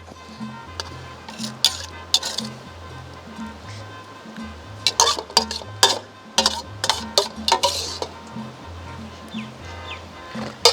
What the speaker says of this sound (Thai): ผมจะตักขึ้นมาก่อนครับ